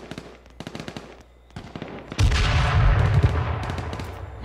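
A few sharp single shots in the video game H1Z1 on PS4 lead into a loud, sustained barrage of rapid gunfire that keeps going to the end.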